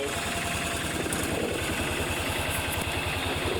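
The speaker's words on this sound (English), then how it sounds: "they had this tightened down so tight, it wouldn't let the engine come down to an idle" A Kawasaki FE400 small engine runs on a Bobcat Pioneer (Club Car Carryall) utility vehicle, its throttle stuck high so it cannot drop to idle; a steady, loud, close-up pulsing drone continues throughout with no talk.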